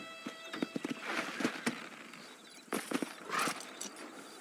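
In Red Dead Redemption, a black horse's hooves clip-clop in quick irregular bursts, fairly faint and close, with scattered game sounds around them and no talk.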